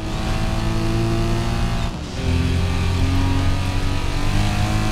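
Several cars drive together in a convoy in the video game Forza Horizon 4, engines droning loud and steady at speed, with a brief dip partway through before the revving resumes.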